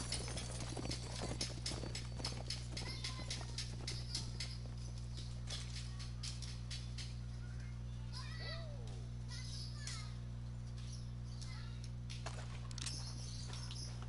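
Horses gallop in Red Dead Redemption 2, a rapid rhythmic clatter of hoofbeats that is loud at first and then fades into lighter clopping over a low steady hum, with a few distant voices and calls.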